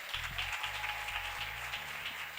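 A church congregation applauds during a wedding celebration service, a steady wash of many hands clapping together, fairly distant, with a low organ or keyboard note sustained underneath.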